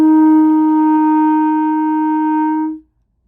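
A clarinet holds one steady, bright sustained note, practising thumb placement, loud and close for almost three seconds before stopping cleanly, played alone with no talk.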